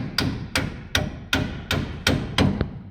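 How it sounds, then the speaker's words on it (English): An old copper hammer taps on the front axle of a Mk1 Ford Transit during a front spring replacement: seven evenly spaced, fairly sharp metallic knocks, close by and moderately loud, with no talking. "tap with the old copper hammer"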